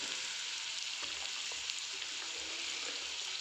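Carrots frying in a pan, a steady hissing sizzle heard up close and fairly quiet, with a few faint stirring knocks underneath.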